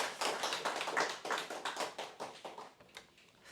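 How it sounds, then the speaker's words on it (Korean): A church congregation claps together during a Sunday service, a steady burst of many hands that stays moderately loud and gradually tapers off, with no talking over it. "하나님께 영광의 박수 한번 올려드리겠습니다."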